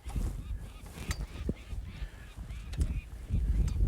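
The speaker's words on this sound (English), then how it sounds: "That's one of the peregrines that they've released." A released peregrine falcon on the prairie gives repeated harsh, honking calls at close range. The calls come in short bursts over steady outdoor background noise, with no talking.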